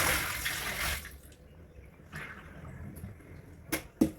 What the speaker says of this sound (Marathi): स्वच्छ लोणी धुवून घेते मी आता पाण्याने